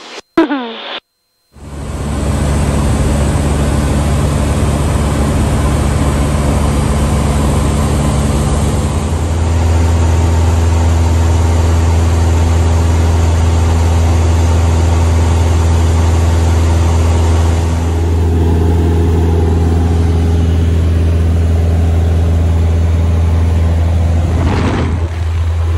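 A small airplane engine drones as the plane climbs out after takeoff from Arlington Municipal Airport, a loud, steady, close hum that runs unbroken after a brief noise at the start.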